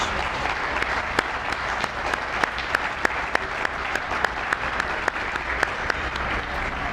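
An audience at a downtown Baltimore partnership event applauds, steady sustained clapping from a large crowd with a few sharper individual claps standing out near the front, continuing for several seconds without talk.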